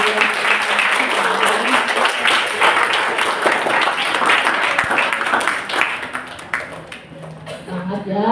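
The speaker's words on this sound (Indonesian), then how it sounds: "Mari kita beri tepuk tangan yang meriah" Applause from the audience at a primary school graduation ceremony, a steady wash of clapping sustained for several seconds and thinning toward the end, with talk mixed in.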